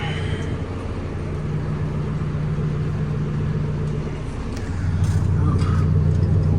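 Diesel engine of a John Deere 410K backhoe idles with a steady low hum, then picks up and runs louder toward the end, heard close alongside faint background noise.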